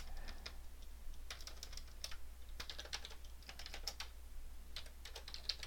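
Fingers type on a computer keyboard in quick, uneven bursts of key clicks, close and fairly quiet over a low background hum, with no talking.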